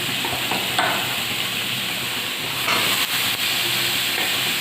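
Loud, continuous hissing sizzle with steam as a little water is added to a hot wok of vegetables, broken by occasional clinks and scrapes; no talking.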